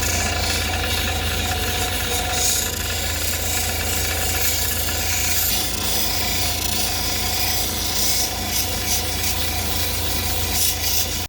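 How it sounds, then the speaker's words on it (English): A fire agate stone is pressed against a spinning 1200 grit polishing wheel, giving a steady, continuous rubbing drone with a low motor hum underneath, close and even throughout with no talking. "So we're going to go on the 1200 grit wheel, and then from there go over to 3000"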